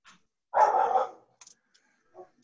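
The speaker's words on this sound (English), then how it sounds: "Okay, that's my neighbor's dog." A neighbor's dog barks in a short burst of several loud, close barks, followed by a few faint, scattered yips and quiet noises.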